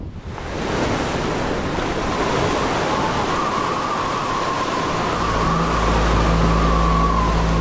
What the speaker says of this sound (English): waves picking up 25 tonne of boat and just hurling it.